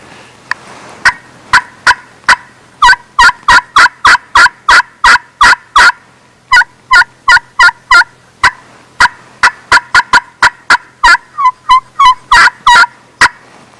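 Aluminum-over-glass pot turkey call set in a black walnut pot, played alone in a long run of sharp, loud, high-pitched raspy yelps in rapid rhythmic bursts with brief pauses.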